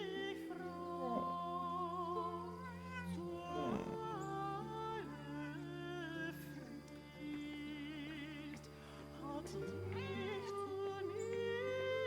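A cat meows several times in the medieval narrative video game Pentiment, each call a short rising or falling cry over a steady layer of sustained game music.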